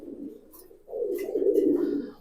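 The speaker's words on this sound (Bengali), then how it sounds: "পুরো ফুল ডাউন ফেসের কবুতর একেবারে ফুল ডাউন ফেস জাবরা কবুতর" Jabra Pankhi pigeons with full down faces coo close by, a soft low call followed by a longer, louder rolling coo.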